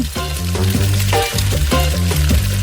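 Steady, crackling sizzle of an egg frying in a hot pan on heart-shaped bread, heard under a bright melodic backing tune with no voices.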